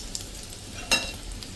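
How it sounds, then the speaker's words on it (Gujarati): Potato-stuffed rolls, a Shivratri fasting dish, fry in hot oil with a soft, steady sizzle that stays fairly quiet throughout, broken by one brief sharper crackle near the middle. "આ રીતે આપણે રોલને પણ તળી લીધા છે."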